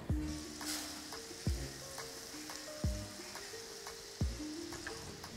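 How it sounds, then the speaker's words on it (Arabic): Calamari sautéing in oil in a paella pan, a soft steady sizzle with several knocks and scrapes of a spoon at regular intervals. "نضيفو كالامار، كنشحرو واحد شويه."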